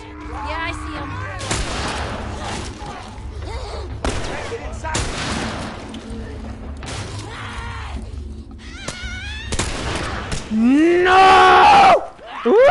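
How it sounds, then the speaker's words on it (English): Rifle gunfire in The Last of Us, several loud shots cracking out in uneven bursts amid game noise and talk, ending with a sharp rising screech. "this rifle takes way too long to fucking fire"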